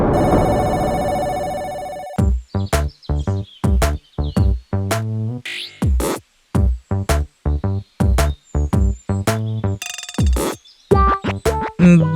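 A telephone rings in an animated family show, a steady electronic ring for about two seconds that then gives way to sharp, rhythmic, music-like hits.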